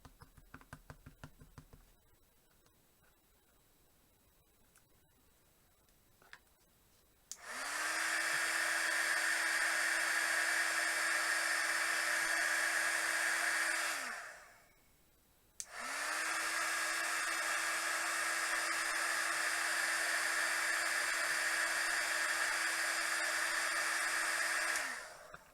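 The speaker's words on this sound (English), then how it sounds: "now we'll do our butterfly" Airbrush spraying paint onto a glass butterfly, two long steady bursts of airy hiss, each several seconds long with a short pause between, close and fairly loud after a quiet stretch of faint handling noise.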